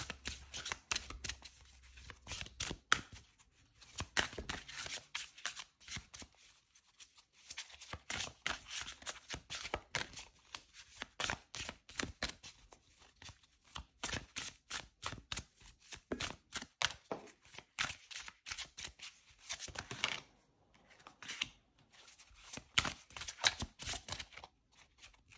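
Tarot cards shuffled and drawn for a reading: quiet, rapid riffling and slapping bursts that come in repeated flurries separated by brief pauses, close up with no talking.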